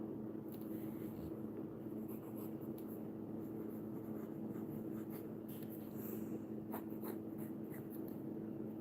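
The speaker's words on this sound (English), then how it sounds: "we're just drawing" Pencil scratches softly and steadily across paper, close and quiet, in short strokes over a low background hum.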